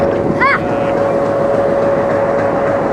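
A short, empty four-to-five-coach train on the Veraval–Delwada–Junagadh line rolls steadily, giving a continuous loud rumble with a sustained tonal whine and a brief chirp early on.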